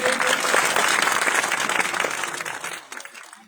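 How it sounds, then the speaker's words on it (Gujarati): An audience at a Thakor Sena meeting in Banaskantha applauds Alpesh Thakor's arrival with loud, dense clapping that holds steady and then tapers off toward the end. "અલ્પેશભાઈ સાહેબ આપણી વચ્ચે પધાર્યા છે, તો જોરદાર તાળીઓથી એમનું સ્વાગત કરીએ"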